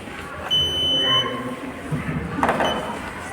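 A small electronic buzzer wired to a solar plate gives a thin, high, steady tone that starts after half a second and then fades, with faint background chatter and brief shuffling noises.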